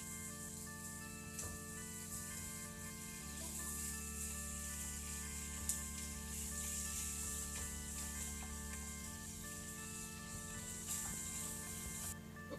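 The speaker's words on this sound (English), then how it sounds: "I can see the cooking the tortilla with the cheese" Tortilla with cheese cooking in a pan, a soft, steady sizzle held close and quiet throughout, with a faint low hum underneath and no talking.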